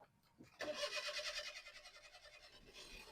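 A car's self-starter cranks the engine briefly before it catches and runs, a short, fairly quiet whirring start that settles into a pulsing idle.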